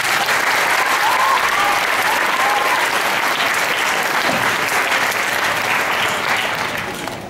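A school audience at a music and student council event breaks into a loud, sustained round of applause that stays dense throughout and tapers slightly at the end, with a faint cheer or voice rising briefly above the clapping.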